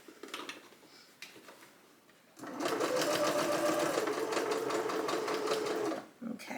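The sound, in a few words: sewing machine stitching blouse fabric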